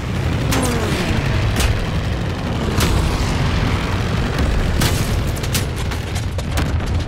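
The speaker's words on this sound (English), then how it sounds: "anti-aircraft fire!" Anti-aircraft fire in the WWII Call of Duty airplane mode: a steady roar of flak bursts and booms, with sharp loud cracks striking at irregular intervals over continuous engine-like rumble.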